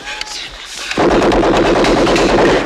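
Dense war-film gunfire from Platoon (1986), a loud continuous barrage of rapid shots and blasts that erupts after a quieter moment and keeps going, with a voice briefly heard early on.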